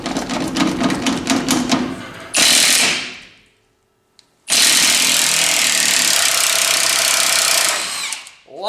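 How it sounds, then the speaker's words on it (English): A Milwaukee M18 impact wrench hammers at 23-year-old rusty U-bolts on a 1998 Dodge Ram 1500, a loud rapid rattling burst, a brief pause, then a long high-pitched whirring run as the bolt spins free, close up. "see if the old Milwaukee has got the torque to break this 98 rust"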